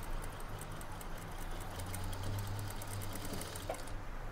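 Sewing machine running steadily as it stitches the side seam of a blouse, a continuous close whir with a fast rhythmic ticking of the needle and no talking.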